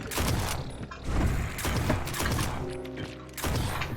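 Gunfire from a Lovecraftian shoot 'em up video game, a few sharp loud blasts with mechanical clacking between them, close and dense with no voices.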